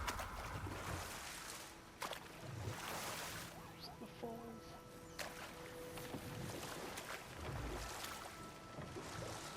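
A waterfall in the action game God of War Ragnarök rushes as a faint, steady wash of water noise with a few soft splashes. Quiet voices talk over it.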